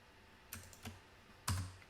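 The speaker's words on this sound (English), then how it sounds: "So we're going to split, type split, enter," Keyboard keys tapped on a computer while entering a split command, a few sparse clicks with a louder final keystroke, close and alone.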